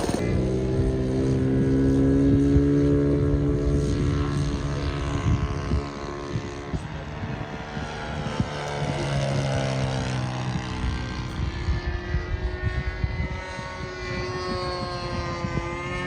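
An RC model P-51 Mustang plane flies at a model aircraft club in Whiteman Park, Perth, its engine droning steadily with rising and falling pitch as it passes, moderately distant and alone.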